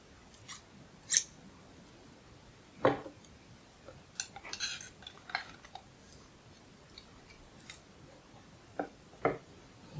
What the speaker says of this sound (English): now that we have clipped all of those off